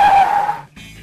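A cartoon car in the video game PaRappa the Rapper brakes hard, giving one loud, close, sustained tire squeal and skid that cuts off abruptly into a low rumble.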